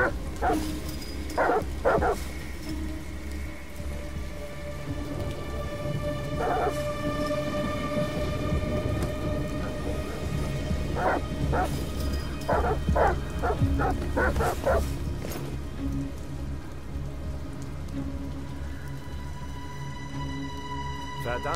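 Dogs barking in the video game Detroit: Become Human on PS4, several bursts of yips and barks scattered over a steady game ambience with a humming background drone.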